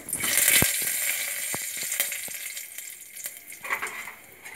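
Curry leaves hit hot oil in a pressure cooker with a sharp burst of sizzling that stays loud, then settles into steady frying crackle dotted with small pops and a few light clinks, close and without talk.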